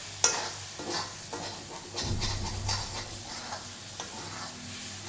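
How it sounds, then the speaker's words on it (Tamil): Crushed raw garlic for pickle sautés in oil, a low close sizzle under repeated scraping stirs of a spoon in the pan, with one sharp clink at the start. "நான் பச்சையாகவே பூண்டை கொஞ்சம் இடித்து வதக்குறேன்"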